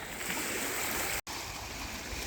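Ocean surf at a warm, quiet sunny beach, a steady close wash of waves with a brief cut of silence midway.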